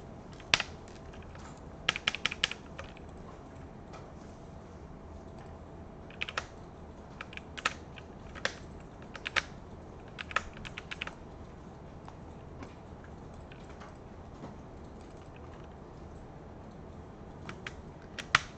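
Scattered computer keyboard clicks from Photoshop shortcut presses, including Alt and Shift, come in short irregular clusters of taps over quiet room noise.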